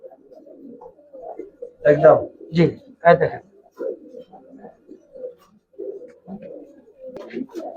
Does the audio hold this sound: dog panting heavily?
no